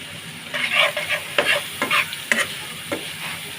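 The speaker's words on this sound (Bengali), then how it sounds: "দিয়ে দেব ধনিয়ার গুঁড়া দিয়ে ভালোভাবে নেড়ে চেড়ে মিশিয়ে নেব" Dry turmeric and coriander powder being stirred into aubergine in a pan for a hotel-style mashed aubergine dish: a run of close scraping, rustling stirs with a light sizzle underneath, no voices.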